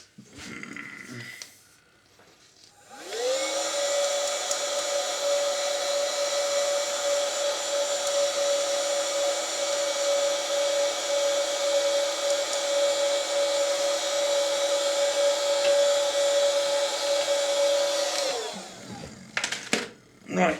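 A steady, loud whooshing blast of air directed over a Panasonic NV G7 camcorder audio board, starting abruptly after a brief rustle, holding constant with a whining tone for about fifteen seconds, then cutting off.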